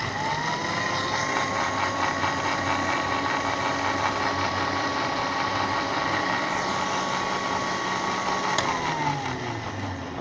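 A blender whirs mango lassi, Lahori style, in a steady loud motor drone that runs unbroken throughout, close and alone.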